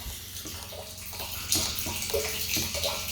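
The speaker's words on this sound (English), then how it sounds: "you can see in here that the water is coming in quite nicely." Rainwater from roof gutters pours steadily into a collection barrel at an off-grid tiny house, a continuous close splashing and trickling flow like a filling tub, with slight surges partway through.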